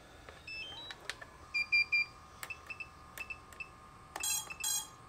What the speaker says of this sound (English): That's a beeper.